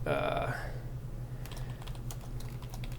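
Typing on a computer keyboard, a quick run of light, close clicks and taps after a short stretch of speech at the start.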